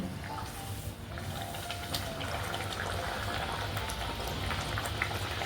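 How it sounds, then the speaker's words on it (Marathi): A rolled puri drops into hot oil in a wok and fries, giving a continuous bubbling sizzle with small crackling pops. It stays steady and close, with no talk. "आता आपल्याला ह्यामध्ये आपण लाटून घेतलेली पुरी घालायची आहे"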